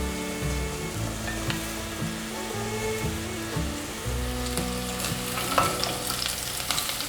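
Taro and pumpkin stir-fry in a wok with a dense, steady sizzle and crackle, loud and close, while gentle background music plays and no one speaks.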